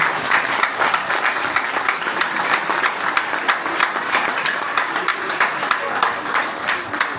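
An audience at an Armenian community children's celebration in Strasbourg applauds the teachers: sustained, dense clapping from a roomful of people, close and even throughout, with some voices mixed in.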